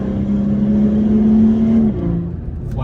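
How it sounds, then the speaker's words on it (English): BMW G30 540i with a 530 hp engine accelerating flat out through a dark tunnel, a loud sustained engine drone with a steady tone that drops suddenly near the end as the driver shifts down for braking. "Flat out through the tunnel into a braking zone."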